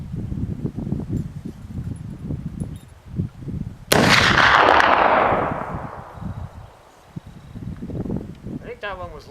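A single loud gunshot cracks during an afternoon target shooting session outdoors, its blast decaying over a couple of seconds, with people talking before and after.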